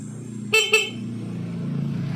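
Two short honks of a motorcycle horn sound close by over a low idling engine rumble.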